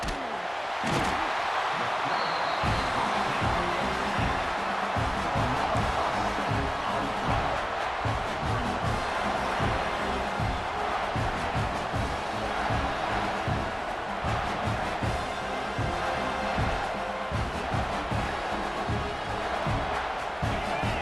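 Stadium crowd noise from the College Football 26 video game, a loud, dense and continuous roar of cheering fans that holds steady throughout without breaks.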